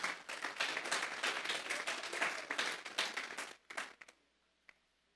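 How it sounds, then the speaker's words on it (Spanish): A church congregation applauds loudly and steadily for several seconds before the clapping tapers off into near silence with a last stray clap. "Vamos a darle un fuerte aplauso pues al Señor"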